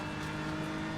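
A BMW GT3 race car engine in a racing video game endurance race at Daytona International Speedway drones with a steady, sustained harmonic hum, moderately distant and constant throughout the short moment.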